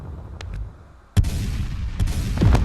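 Ships firing on each other in the space game Space Engineers, with faint distant shots at first and then a sudden heavy boom followed by sustained rumbling gunfire and a few sharp cracks.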